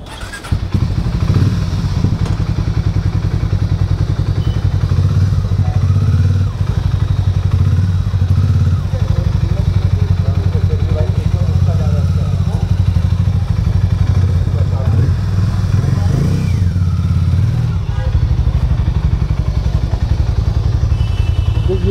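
A Hero Mavrick 440 or Harley-Davidson 440 motorcycle idles and runs with a loud, close, steady thumping rumble, while someone talks over it.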